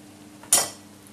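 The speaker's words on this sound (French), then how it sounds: "je vais touiller comme ça" A pot of white beans is stirred once with a spoon, giving one sharp metallic clink and scrape against the pot, close by, and then a brief fading ring over quiet kitchen background.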